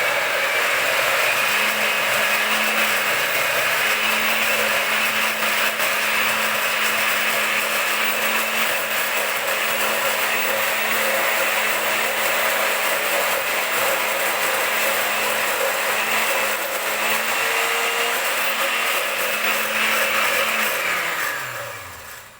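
A blender runs steadily while emulsifying mayonnaise, a loud continuous whirring motor drone with a steady hum that holds for about twenty seconds before winding down at the end, with no talking.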